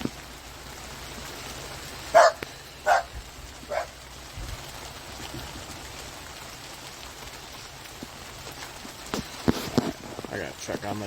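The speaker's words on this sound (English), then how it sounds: "the dogs are going crazy" Dogs barking at a rainy campsite in Baldwin: three sharp barks in quick succession early on, then a few fainter yips later, over a steady hiss of rain.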